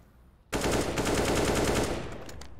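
Automatic rifle fire in a Counter-Strike match at an IEM Dallas 2022 qualifier: one loud, sustained rapid burst of about two seconds that starts abruptly and then tails off into a fading echo.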